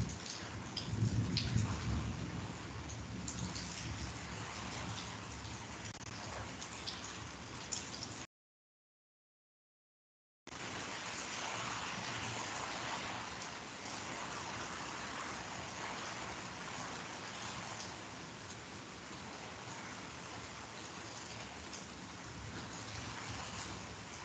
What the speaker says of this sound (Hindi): बारिश भी शुरू शुरू हो गई है